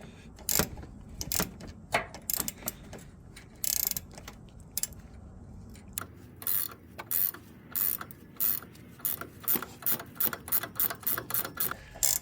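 A wrench ratchets on the front shock bolt of a Toyota Land Cruiser 100 Series, giving close, crisp bursts of clicking that start irregular and settle into an even, quickening rhythm of strokes.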